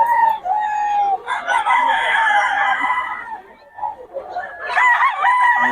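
A Sweater-bloodline gamefowl rooster crows loudly and close by, with clucks and a brief second crow toward the end, and a faint voice in the background.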